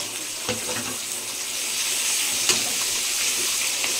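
Chopped onion frying in oil with black cumin, a steady broadband sizzle hissing continuously with faint scattered crackles and light clinks, close and fairly loud, no talking.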